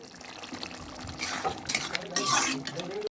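Paneer cubes tumble into a pan of spinach curry with potatoes, giving a close clatter of pan and utensil with a wet stirring sizzle that builds toward the end.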